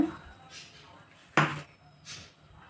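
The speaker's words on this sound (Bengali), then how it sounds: "এখানে ভাজবার জন্য একটা কড়াই নিয়েছি" A metal kadai is set down for frying with a sharp clank near the middle, followed by a softer metallic knock, close by in a quiet kitchen.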